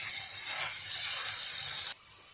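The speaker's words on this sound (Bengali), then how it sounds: "ফুলকপিটা আমি হলুদ লবণ দিয়ে হালকা করে ভেজে নিচ্ছি।" Cauliflower fries lightly with turmeric and salt in a pan, giving a steady, bright hiss of sizzling oil that drops away abruptly near the end.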